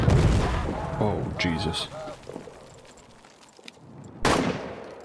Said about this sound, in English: Damn artillery.